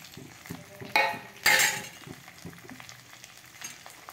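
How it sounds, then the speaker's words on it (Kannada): Green chillies, onion and salt drop into a hot frying pan while cooking Aldur-style uppitu, setting off two loud sizzling bursts amid steady frying, with spoon scrapes and clinks against the pan. "ಇದು ಸ್ವಲ್ಪ ಬೆಂದ ನಂತರ ನಿಮ್ಮ ಹಸಿರು ಮೆಣಸಿನಕಾಯಿ, ನೀರುಳ್ಳಿ ಮತ್ತು ಉಪ್ಪನ್ನು ಇದಕ್ಕೆ ಸೇರಿಸಿ. ಈಗ ಇದನ್ನು ಸೇರಿಸ್ತಿದ್ದೇನೆ."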